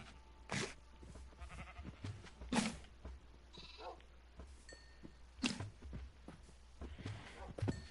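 Sheep in a farming video game bleat several times, short nasal calls spaced a second or two apart over a quiet background with soft clicks.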